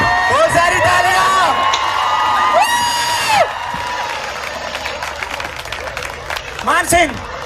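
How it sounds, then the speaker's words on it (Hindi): An audience at a comedy stage show about Anarkali and Prince Saleem bursts into applause and cheering, with whoops and shouts over clapping, then quieter chatter and voices before a brief swell of cheers. "बहुत सारी तालियां"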